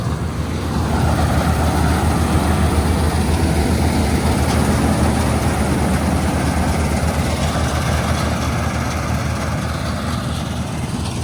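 A combine harvester's heavy diesel engine runs steadily at close range in a wheat field, a loud, continuous low drone with an even mechanical hum throughout and no speech.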